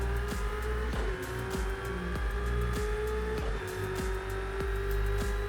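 Race cars roaring through Project Cars 2, a racing video game: a steady, loud engine whine with rising pitch and distinct gear-shift dips, plus rapid rhythmic ticks underneath, with no voices.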